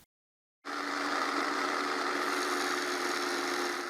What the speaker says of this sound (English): Now I will try the third jigsaw blade.